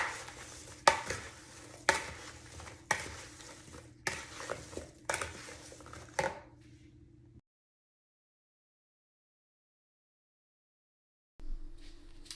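Apple pie filling is mixed with a pinch of salt in a bowl. Rhythmic, close scraping and tossing strokes come every second or so, then stop into silence before one brief final stir.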